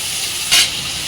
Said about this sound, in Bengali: তেলের মধ্যেই মশলাটা করে রেখে সেটাকে দিয়ে মশলা ধোয়ার জলটা একবারে দিয়ে দেবো